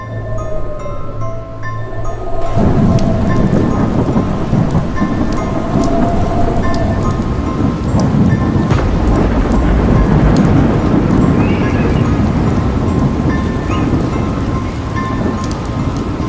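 Heavy rain pours steadily with rumbling thunder and gusting wind, a loud, dense roar that fills the scene after a quieter start.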